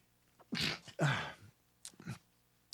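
A few sharp, breathy bursts in quick succession, like a person sneezing nearby, the last one brief and softer.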